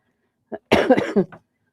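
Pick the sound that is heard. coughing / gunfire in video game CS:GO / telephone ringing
coughing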